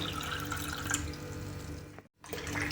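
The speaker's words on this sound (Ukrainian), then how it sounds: "Між банками наливаємо холодну воду." Cold water pours steadily into a pot between glass jars with a trickling, splashing sound, briefly cut off near the end before resuming.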